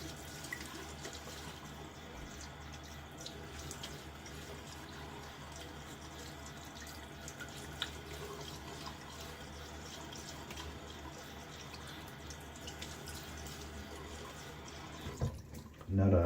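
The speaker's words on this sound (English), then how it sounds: "let's rinse off this third pass" Tap water runs steadily in a low, even stream while rinsing during a wet shave, a soft continuous wash with faint drips, ending in a few louder clatters.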